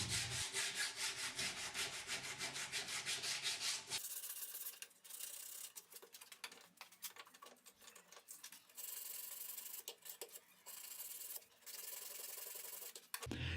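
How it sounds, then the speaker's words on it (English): Wood being sanded by hand with 100 grit sandpaper to smooth away file marks, a dense scratchy rubbing that is loud at first, then continues as a choppy, intermittent series of strokes with short pauses. "I will clean the file marks with 100 grit sandpaper"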